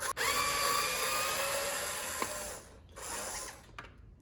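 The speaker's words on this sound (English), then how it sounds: "I'm going to use my old trusty Skill screwdriver that I actually upgraded to lithium." A Skil cordless electric screwdriver, upgraded to a lithium battery, whirs steadily for about two and a half seconds, then makes a second shorter burst after a brief pause; close and fairly loud with no talk.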